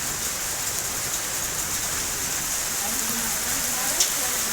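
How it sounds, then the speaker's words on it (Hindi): Heavy rain with large hailstones falls steadily in a cloudburst, a dense continuous roar of drops and patter with a faint voice underneath. "ओले पड़ रहे हैं यहाँ पर, मोटे मोटे ओले।"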